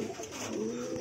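High-flyer pigeons cooing close by near a loft, a low, steady, murmuring coo that runs through the whole moment with no talking.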